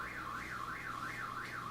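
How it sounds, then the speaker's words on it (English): A car alarm wails steadily in the background, its siren tone sweeping up and down in a regular repeating cycle, moderately loud and alone with no one talking. "apologize if you can hear an alarm in the background."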